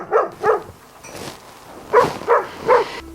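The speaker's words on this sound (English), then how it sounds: "maybe dogs barking." Several sharp dog barks, two quick ones, a pause, then three more in a row, close and fairly loud.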